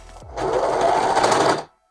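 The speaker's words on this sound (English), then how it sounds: "this whole side, I'm gonna use my serger" A serger runs in one short, fast burst of rapid stitching through fabric too thick for it, close and loud, then stops abruptly.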